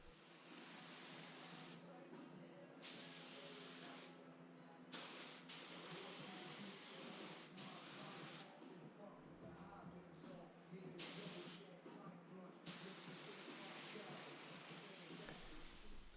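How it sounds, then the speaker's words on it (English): Bursts of airy hissing from a spray gun applying paint basecoat to an angled car panel come and go in short passes with brief pauses, fairly close but quiet overall. "So you want to make sure to spray from both ends if you have a panel that has a lot of angles"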